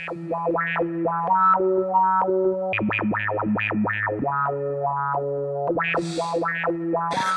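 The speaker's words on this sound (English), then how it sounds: "Let's try and see how it sounds with some reverb." A Make Noise BRENSO synthesizer plays warbling, bouncing tones with sweeping pitch from wiggly LFOs over a steady low drone, washed in reverb, loud and continuous with no voices.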